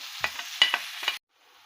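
Chopped onion, red and green peppers, two garlic cloves and tomato cook in a pan, a soft steady sizzle broken by several short stirring scrapes before it cuts off abruptly.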